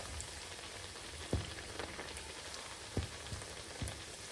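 Corn fritters frying in hot oil in a pan as oil is spooned over them, giving a continuous soft sizzle and crackle with a few louder pops, steady throughout and no speech.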